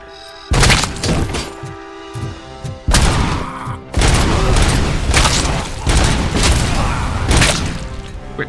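Loud grenade explosions in RoboCop: Rogue City, several heavy booming blasts with shattering debris spaced a second or two apart, with gunfire in between.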